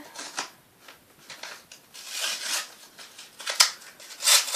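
A nail art product package is opened with care to keep its instruction leaflet, giving close crinkling, rubbing and tearing rustles in irregular bursts.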